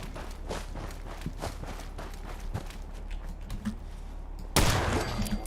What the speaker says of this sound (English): Let's just go shoot it.